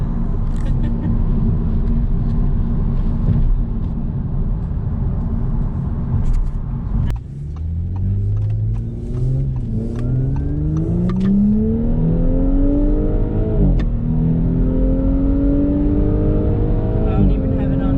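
A 2018 Audi S5 with a 3-liter turbocharged engine, heard from inside the car as it cruises with a steady drone, then accelerates hard through rising gear sweeps and shifts, with a person talking over it.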